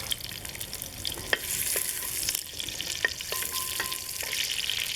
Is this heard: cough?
no